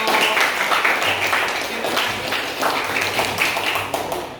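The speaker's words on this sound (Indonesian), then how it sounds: "tepuk tangan untuk kelompok" Classroom applause for a student group after presenting their chemistry results, dense mixed clapping throughout at steady loudness with some voices underneath.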